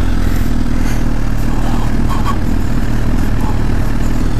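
A Suzuki GSX-R 1000 superbike engine running loud and steady, a constant close rumble with some mechanical clatter and no clear revving, and nobody speaking.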